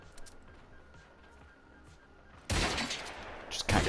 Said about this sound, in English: you just want to kind of prioritize the shotguns over the SMGs